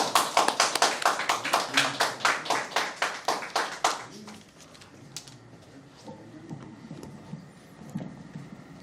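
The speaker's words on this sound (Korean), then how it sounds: "박수로 환영해 주세요." An audience at a forum on healthcare reform claps to welcome a speaker, a steady rhythmic round of hands for about four seconds that fades into quieter room sounds and soft movement.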